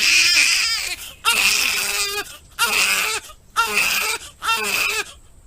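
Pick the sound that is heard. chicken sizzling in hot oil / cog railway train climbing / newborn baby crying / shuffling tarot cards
newborn baby crying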